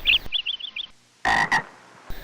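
Cartoon frogs in an animated jungle film croak in quick bursts: a chirpy, bubbling trill, then a short pause before two loud, throaty croaks close together.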